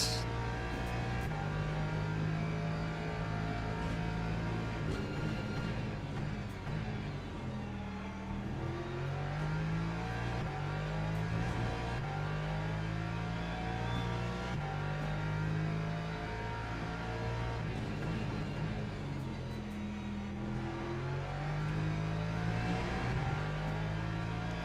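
A Lexus race car in a racing video game holds a steady, droning engine note throughout, with pitch rising and falling as it shifts gears and accelerates, continuous and fairly loud with no talking.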